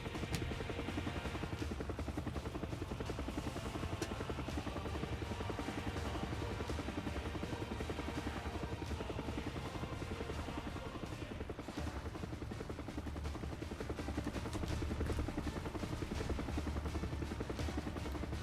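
Military helicopters fly over the Peace Plaza at the War Memorial of Korea during a 70th Armed Forces Day ceremony, a continuous heavy rotor thrum and engine roar that holds steady throughout with faint voices beneath.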